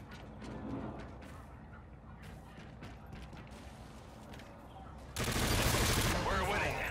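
Video game gunfire crackles as a rapid fusillade of shots over a busy background of mechanical noise, swelling into a louder, denser burst of automatic fire near the end.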